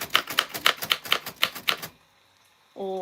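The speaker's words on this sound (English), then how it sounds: "I'm pushing this typewriter to its max, but I do love her, and I hope she understands." A typewriter pushed hard: a quick run of about a dozen loud, sharp keystrikes, then a short pause before a brief tonal mechanical sound at the end.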